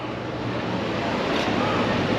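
Shallow Chattahoochee River water running over rocks near Helen, Georgia, a constant close rushing wash with some wind noise, steady and unbroken for the whole short stretch.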